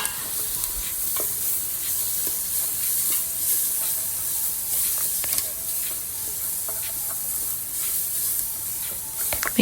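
Oxtail soup ingredients with paprika are stirred in a pot, a continuous close scraping and rustling with crisp clicks over a bright sizzling hiss, steady for several seconds.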